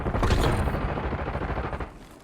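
Gunfire in Warzone 2.0, likely from a TAQ 56 rifle: a loud, close, continuous rattle of rapid automatic shots with heavy low-end booms, gradually easing off toward the end, with no talking.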